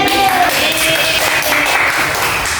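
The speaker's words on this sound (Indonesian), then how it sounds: "Jadi benar ya, tepuk tangan dulu." A classroom of students applauds together in a microteaching lesson, a loud, dense burst of clapping with some voices mixed in.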